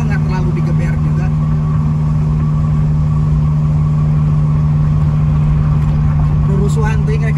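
Inside a 1991 BMW E30 M40 travelling along a toll road, a steady engine drone and tyre rumble carry on without a break, with someone speaking now and then over the noise.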